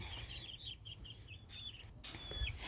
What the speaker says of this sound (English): they be fussing because they cackling on where they gonna gather and sleep